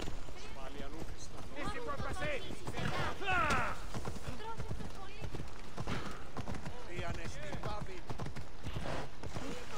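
Steady clip-clopping hooves from a horse in Assassin's Creed Odyssey, heard under continuous talking and game sounds.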